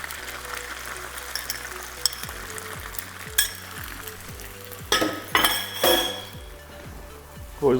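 Hash browns frying in a pan for a Mexican smothered breakfast burrito, a steady sizzle with clinks of a utensil against the pan, plus a low rhythmic background hum and occasional louder scrapes.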